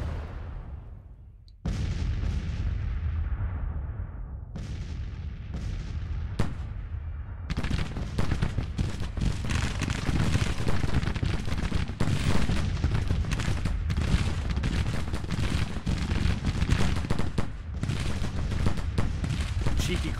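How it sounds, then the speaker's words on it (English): Close-range artillery bombardment in a Peninsula Campaign war video game, a dense barrage of loud booms and cracking gunfire rolling almost continuously after a few separated opening blasts. "Cheeky close range bombardment."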